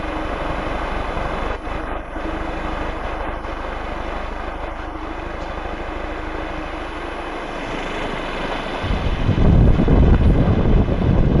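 A new-model wind generator spinning up, a steady loud whirring drone that swells and roughens toward the end as the speed climbs, heard alone without voices.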